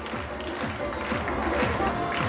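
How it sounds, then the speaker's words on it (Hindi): An audience at a school alumni meet claps steadily, dense continuous applause at moderate loudness with a faint voice beneath. "एक बार जोरदार तालियां बजा के स्वागत करें।"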